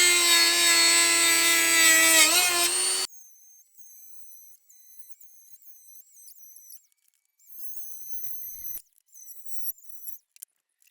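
A power saw grinds loudly through a metal floor plate on an E36 BMW racecar for about three seconds, then stops, leaving faint scraping and handling noises.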